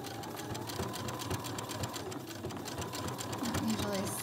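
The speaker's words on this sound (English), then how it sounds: "I don't usually sew one-handed, but this is understitching." Sewing machine understitching a pocket on joggers, running in a steady, continuous quiet whir close by without pauses.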